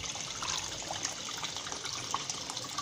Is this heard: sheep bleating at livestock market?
no